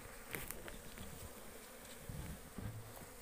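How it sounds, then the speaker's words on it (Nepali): Honey bees buzz around a backyard beehive close by, a steady droning hum with individual insects swelling louder as they fly past, no voices. "यहाँनिर चाहिँ मौरीले वरिपरि मलाई नि घेरिरहेको छ"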